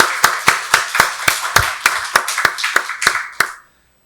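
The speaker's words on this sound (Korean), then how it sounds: "박수로 하나님께 영광 돌리겠습니다" A church congregation claps during a Sunday worship service, about a dozen sharp, evenly spaced claps in a steady beat that stop abruptly, leaving silence.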